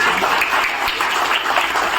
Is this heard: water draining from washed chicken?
no